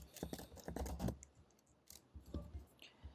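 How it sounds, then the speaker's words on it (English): Quiet, rapid clicking of keys being typed on a computer keyboard, an irregular patter close by with brief pauses. "Sorry about my typing."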